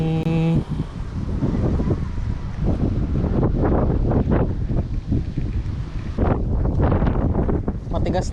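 Strong wind buffets the microphone on a gusty day of fishing with hard lures, a loud continuous rumble with surging bursts, while a voice is partly heard beneath it.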